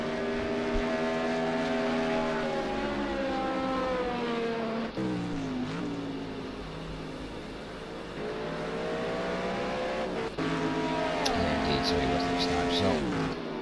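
GT1 race cars at Watkins Glen in a sim racing game drone loudly with rising and falling engine pitch through gear changes, heard under a commentator talking.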